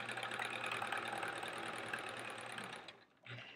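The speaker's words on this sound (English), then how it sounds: "Let's sew us some half square triangles." A sewing machine stitches half square triangle quilt pieces, a steady close mechanical whir with a rapid needle rhythm that runs for about three seconds, then pauses and briefly restarts.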